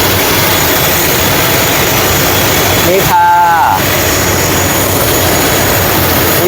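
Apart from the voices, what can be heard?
propeller airplane engine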